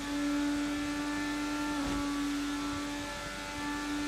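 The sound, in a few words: Indycar engine in Assetto Corsa video game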